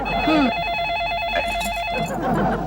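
A telephone rings with a warbling electronic trill for about two seconds, then stops, with faint room noise and a brief voice nearby.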